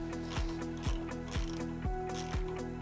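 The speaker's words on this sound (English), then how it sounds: "I have an 11 millimeter small little hand ratchet here. So we're gonna just tension this down." A small 11 mm hand ratchet tightens a bolt on an encoder mount, giving a quiet, close series of about five rhythmic clicking strokes.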